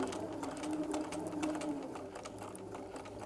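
A sewing machine stitches a curved quilt seam at a slow, steady pace with the needle kept down, giving a continuous close mechanical whirr and rapid stitching patter with no talk over it.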